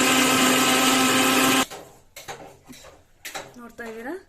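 A mixer grinder whirs loudly as it purées tomatoes, coriander leaves and water for tomato bath, running steadily for about a second and a half before cutting off, followed by clinks and a voice talking.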